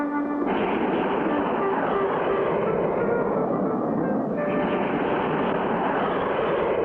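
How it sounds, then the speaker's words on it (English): A fast jet plane racing in an air race roars loud and steady throughout, a continuous broadband whoosh with a shift in pitch partway through as it passes. "Did you ever see such a fast jet plane, Mr. Hiram?"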